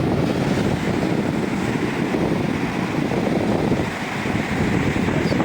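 Strong wind roars steadily over an Italian sea shore during a storm, buffeting the microphone with a broad, loud rumble while surf washes underneath, with no voices.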